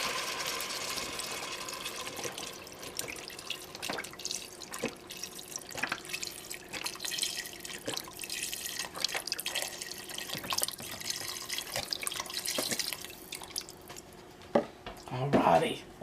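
Two pounds of chicken broth poured steadily over potatoes frying in a pan, giving a continuous wet splashing sizzle with scattered drips and clinks, close and moderately loud, ending in a few louder clatters.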